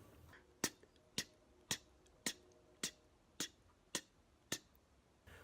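A vocal imitation of a closed hi-hat: eight short, crisp "t" clicks spaced evenly about half a second apart, quiet and alone.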